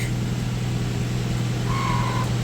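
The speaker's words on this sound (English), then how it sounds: "Let's see if the blower motor works real quick." The blower motor of a 1965 Plymouth Valiant runs with a steady low hum and whir, joined by a brief faint whine near the end.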